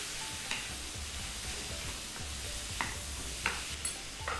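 Three large tomatoes frying in a hot pan: a quiet, steady sizzle with soft stirring scrapes and occasional light clicks.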